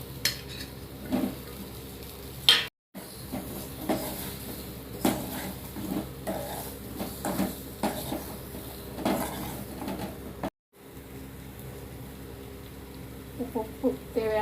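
Diced beetroot stir-fried in a pan with popped mustard seeds and chili powder over low heat: a soft sizzle under repeated scraping and clinking of a spatula against the pan, with a couple of brief silent gaps.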